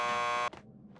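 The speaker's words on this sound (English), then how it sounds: "Just press the buzzer by the door." A door buzzer in the video game Max Payne 2 sounds one loud, harsh, steady buzz for about half a second, then cuts off abruptly and leaves faint room noise.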